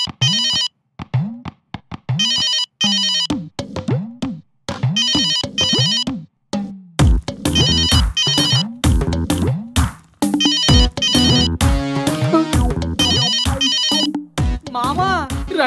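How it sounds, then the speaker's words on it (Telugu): A mobile phone ringtone sounding loudly and repeatedly in a Telugu comedy sketch, bright electronic melodic tones in short bursts that become denser and more jumbled partway through. "ఫోన్ రింగ్ రా యదవా"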